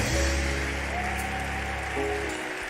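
A church congregation applauds in a dense, continuous patter of clapping that holds steady to the end, with a faint hum of voices mixed underneath.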